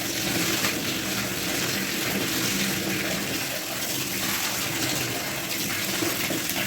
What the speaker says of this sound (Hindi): तो इसी तरह सारे कपड़ों को हम पानी में से निकाल देंगे।